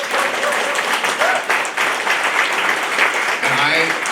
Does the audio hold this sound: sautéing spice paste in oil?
no